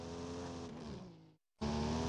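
A steady car engine hum in Rent A Car Simulator 24 with a constant low tone cuts out briefly to silence, then resumes abruptly at the same pitch, like idling.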